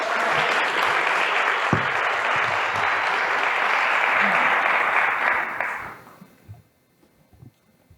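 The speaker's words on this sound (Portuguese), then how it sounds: "Palmas para o Felipe Cray." An audience at a talk on liberty breaks into sustained applause, a broad dense wash of clapping that holds strong for about six seconds before fading out to near silence with a few scattered last claps.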